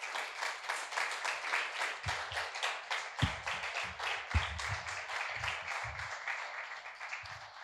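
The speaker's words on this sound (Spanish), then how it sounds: "¿Cuántos le dan un aplauso al Señor?" A church congregation applauds the Lord, many hands clapping in a fast, steady, fairly distant rhythm that carries on for several seconds with a few louder, closer claps and no talk over it.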